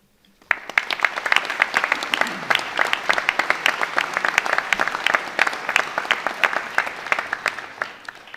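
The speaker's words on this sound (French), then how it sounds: "Nous pouvons tous les applaudir ce soir." Sustained applause from an audience at a New Year's address honouring teaching staff, dense clapping that starts abruptly and holds steady at full strength for several seconds.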